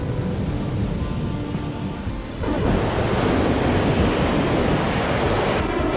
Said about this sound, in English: There's some big waves out here this morning.